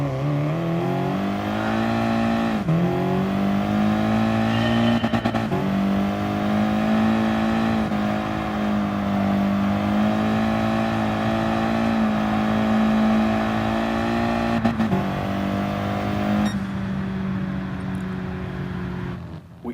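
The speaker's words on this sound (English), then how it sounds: "Controlling your speed with the throttle." A race car engine holds steady under throttle in Gran Turismo Sport, a loud, continuous high drone with brief dips where the pitch drops and climbs again, running alone throughout.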